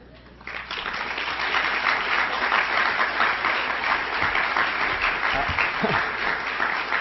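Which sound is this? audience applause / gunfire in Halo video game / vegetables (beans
audience applause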